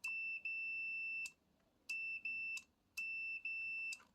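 A continuity tester beeps across a deep fryer's limit switch, giving three high steady tones, each about a second long, with short silent gaps between them.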